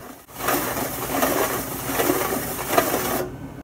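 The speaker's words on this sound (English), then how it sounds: "run my fingers on a metal tin," Fingers rubbing and scraping across a metal tin, recorded close as a continuous gritty, rasping texture for a portal sound effect, steady for about three seconds before stopping.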